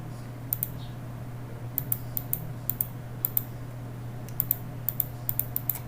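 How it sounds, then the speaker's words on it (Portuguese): Computer keyboard keys tapped in short irregular bursts of clicks, fairly close, over a steady low electrical hum while navigating a chemistry titration simulation website; no voices. "clico no link e aperto Enter."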